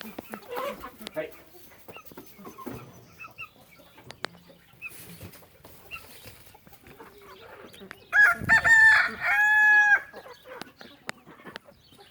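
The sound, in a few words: roosters crowing and chickens clucking in a flock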